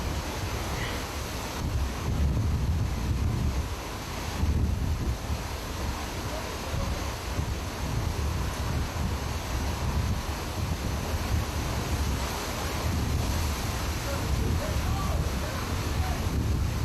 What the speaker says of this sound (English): Look at how fast the wind is going this way, and then watch the water. It's pushing the water.